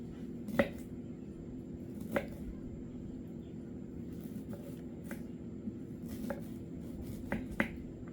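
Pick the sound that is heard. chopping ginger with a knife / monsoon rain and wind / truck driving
chopping ginger with a knife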